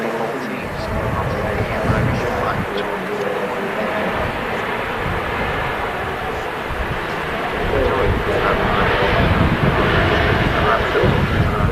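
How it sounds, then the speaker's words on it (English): A Ryanair airliner just in from Berlin rolls down the runway after touchdown at a windy Manchester Airport. A steady, broad engine roar is heard from a distance, mixed with constant wind buffeting on the microphone. "rolling on the runway is a Ryanair that's just touched down from Berlin"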